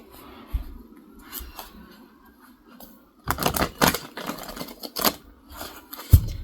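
Tarot cards are shuffled by hand in quick flurries of crisp riffles and taps, some soft and scattered and others in louder clustered bursts, close up.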